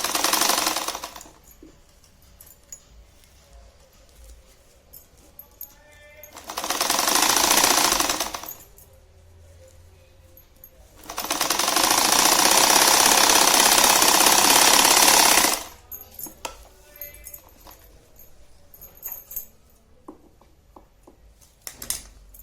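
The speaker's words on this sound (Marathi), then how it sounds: "हिच्यावर पण दाब शिलाई घेऊन घ्यायची." A sewing machine top-stitches purse fabric in two loud buzzing runs, one short and one longer, with quiet handling of cloth in between.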